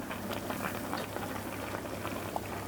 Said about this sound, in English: I can see some bubbling and boiling going over there